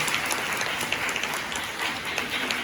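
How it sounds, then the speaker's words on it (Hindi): A seated audience at a nutrition and diet class claps for itself, a continuous, moderately loud patter of many hands that stays even from start to finish. "तो इस बात के लिए एक बार आप लोग अपने लिए खुद से ताली बजा लीजिए।"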